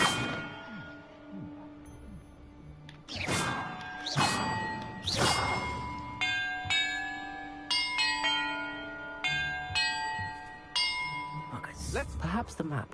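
Bells in the Hogwarts Legacy video game ring out in a sequence of clear, resonant strikes, several distinct chimes spaced a second or so apart with lingering tones, some over a low musical background.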